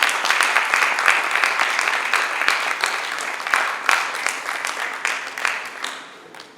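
An academic workshop audience claps steadily for several seconds, with individual sharp claps standing out before the applause tapers off at the end.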